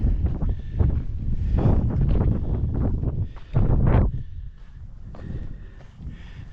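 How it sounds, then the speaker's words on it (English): Strong wind gusting on a mountain top in cool air, loud buffeting rumble against the microphone in waves, easing toward the end. "the wind's really blowing up here"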